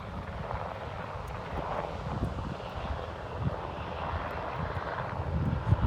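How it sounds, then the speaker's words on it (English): A dark gray, unmarked military helicopter flies over a beach, a broad steady rumble of engine and rotor noise with faint wind buffeting, holding fairly even and swelling slightly near the end. "I've been seeing military helicopters constantly."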